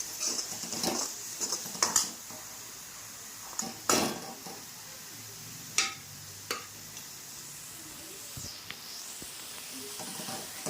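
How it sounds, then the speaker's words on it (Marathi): Masala roasts in oil in a pan while being stirred, with a soft background sizzle broken by several sharp clinks and scrapes of a metal spoon against the pan, spaced irregularly. "हा मसाला थोड्या वेळ तेलात भाजून घ्यायचा, खाली लागू नये म्हणून त्याला थोड्या वेळाने हलवायचं।"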